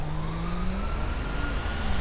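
Emergency vehicle siren in the GTA 5 video game, a steady rising wail that sits over continuous traffic and engine noise, fairly loud and unbroken for the whole stretch.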